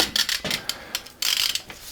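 A cheap ratchet tightening a cylinder head bolt on a Peugeot 205 GTI gives quick bursts of close, crisp pawl clicking in uneven strokes, with brief pauses between pulls.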